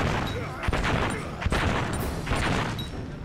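Grenade explosions in the World War I video game Valiant Hearts, a dense run of booming blasts and crackling gunfire-like bursts with several sharp peaks, loud and continuous over a busy battle backdrop.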